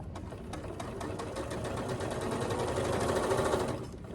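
A Handi Quilter longarm quilting machine stitches through a thick tote bag seam, its steady rapid needle chatter and motor hum running continuously and close, easing off near the end.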